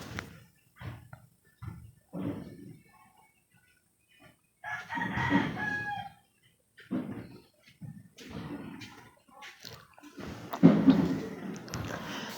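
Chickens cluck and crow in short bursts, including rooster calls, close by and moderately loud, with quiet gaps between calls and no talking.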